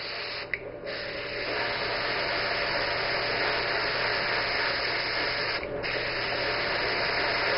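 An airbrush sprays paint and air in a steady, close hiss that runs unbroken throughout, with two brief dips where the flow is adjusted.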